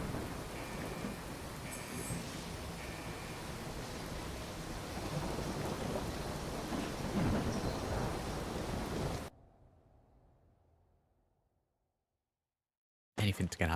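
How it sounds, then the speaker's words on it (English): Steady heavy rain and rolling thunder from the Fallout 4 game world pour down for several seconds, then fade to near silence before a sudden burst returns. "Anything to get out of the rain."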